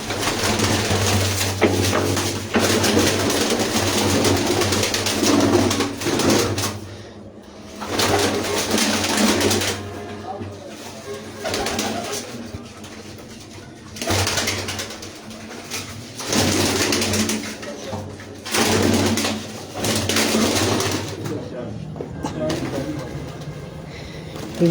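Pigeons coo repeatedly on a rooftop breeding loft in Mandi Mor, soft throaty calls over a steady low hum, with someone talking throughout in bursts.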